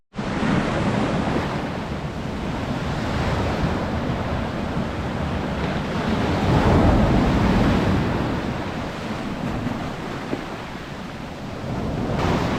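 Steady surf rolls onto the beach at Lyme Regis, a continuous loud wash of breaking sea waves with gentle swells in intensity and some wind buffeting the microphone, no voices.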